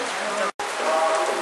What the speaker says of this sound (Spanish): Está lloviendo, el monzón mucho, mucho.